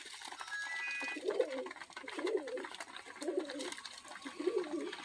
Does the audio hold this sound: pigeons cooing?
yes